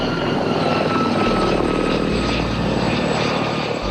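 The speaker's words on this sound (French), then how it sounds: "Depuis le ciel, des hélicoptères de l'armée française tirent sur les manifestants des civils." French army helicopters pass overhead during a street protest in Abidjan, Ivory Coast, a loud, continuous rotor and engine roar that fills the scene without pause.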